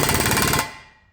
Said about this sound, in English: I got a big 3/4 inch air wrench on it